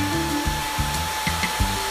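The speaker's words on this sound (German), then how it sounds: "Dann mit dem Föhnföhn." Hair dryer blowing on a dog in a pet grooming video game, a steady airy whir running the whole time, loud and close under repeating game music.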